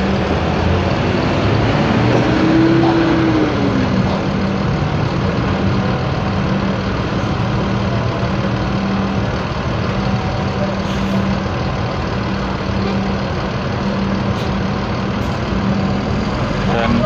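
Bagong intercity bus engine idling at a stop in Kertosono before departing, a loud steady low rumble with a constant hum running throughout, a brief rising whine early on.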